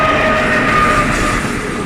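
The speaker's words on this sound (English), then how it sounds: "and a train coming" A train runs along the coastal line between Monaco and Nice, a steady loud rolling rumble with faint high squealing tones, heard alone with no talking.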